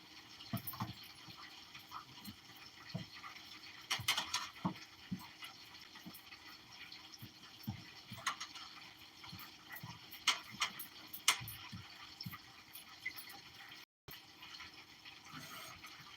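A spoon adds water slowly to fritter batter in a bowl, making faint, scattered trickles and small splashes in a quiet kitchen.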